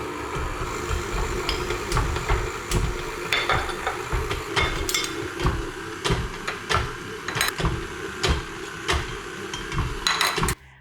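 Stand mixer on low speed kneading brioche dough as butter goes in a tablespoon at a time, giving a steady motor hum with repeated knocking thumps of the dough slapping the bowl, close and fairly loud.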